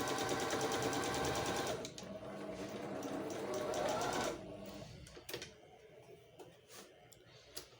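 A Singer 5200 sewing machine runs in a fast, steady stitching whir for about four seconds, then stops, leaving a few quieter clicks and small handling knocks.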